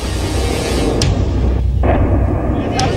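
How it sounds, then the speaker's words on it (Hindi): Shelling along the Line of Control near Rajouri in Jammu and Kashmir, with a loud continuous rumble and a few sharp distant blasts and shots. "एलओसी पर पाकिस्तान की तरफ से हो रही फायरिंग की आवाज सुन रहे हैं आप।"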